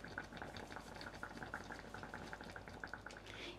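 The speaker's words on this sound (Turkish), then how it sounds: "sonra kısık ateşe alıp 5 dakika daha kaynatıyoruz" Semolina milk pudding simmering over low heat in a pot, a soft, steady bubbling hiss that carries on evenly throughout, faint and close with no talking.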